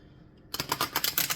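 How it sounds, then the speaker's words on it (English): A deck of tarot cards being shuffled by hand, a short burst of crisp, rapid riffling and flicking that starts abruptly after a moment of near silence, close and fairly loud. "I've been shuffling, but I'm going to shuffle some more if I can get my fucking hands around this deck."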